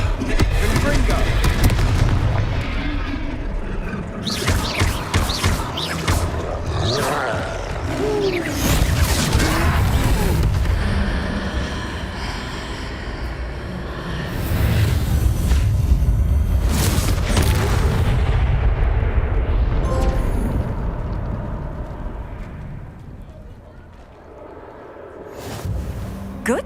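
Repeated fire spell explosions in the game Hogwarts Legacy, deep booming blasts and crashing impacts layered densely over continuous game sound, with voices heard during the fighting.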